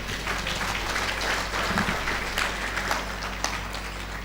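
An audience claps steadily and densely throughout at a Guru Purnima devotional program in a Kabir temple, a continuous, moderately loud wash of hand claps.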